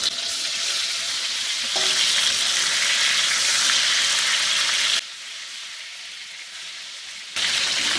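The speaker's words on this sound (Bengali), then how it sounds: "আমি কিন্তু হাই হিটে ভাজতেছি যাতে পটলের একটু বাদামি দাগ লাগে" Pointed gourd (potol) frying in about three tablespoons of hot oil over high heat, a loud, continuous, close hiss of sizzling that briefly quiets partway through before surging back.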